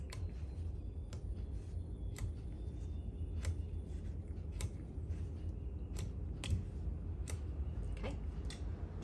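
Scissors cut through quilt fabric pieces in a quiet series of sharp snips, roughly one per second, close by over a low background hum.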